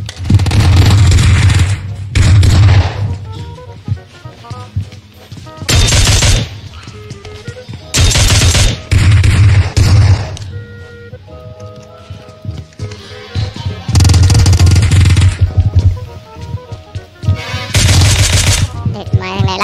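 Bursts of rapid gunfire in PUBG Mobile, loud and repeated in short volleys with quieter gaps between, some tones and effects in the pauses.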